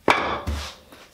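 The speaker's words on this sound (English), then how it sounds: "Now we can cut the Zebrano to fit on top of the bevels." Zebrano wood being cut to size for the top of a ring box, heard as a sharp close cutting strike followed by a second duller knock, alone in a quiet workshop.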